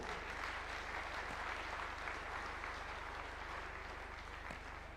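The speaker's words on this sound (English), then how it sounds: "A round of applause for the report." Audience applause at the Second Africa Urban Forum at KICC in Nairobi, a steady wash of clapping from a large conference crowd that fills the whole stretch and fades slightly toward the end.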